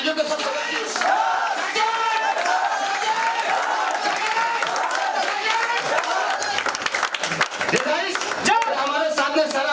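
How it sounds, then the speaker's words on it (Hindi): An indoor audience claps steadily in a continuous patter of applause, with some cheering mixed in and someone talking over it through a sound system. "तालियां कंटिन्यू होनी चाहिए अपने अंदर"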